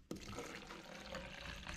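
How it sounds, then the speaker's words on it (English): Tap water runs steadily into a protein shaker cup, about 300 millilitres, a continuous splashing pour that starts abruptly and keeps going close by with no one talking. "Let's get our 300 milliliters, approximately 10 ounces of water in my shaker cup."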